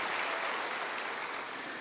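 A brief burst of crowd applause, many hands clapping together in a dense, steady patter.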